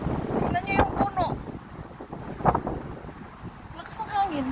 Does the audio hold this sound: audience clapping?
no